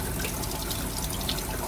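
Warm water runs steadily from a tap supplied by a tankless water heater in a converted school bus, a continuous close splashing hiss with no talk.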